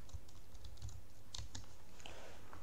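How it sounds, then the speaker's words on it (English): A password being typed on a computer keyboard at login: a short burst of close, crisp key taps with irregular rhythm, no talking. "I'll type in the password."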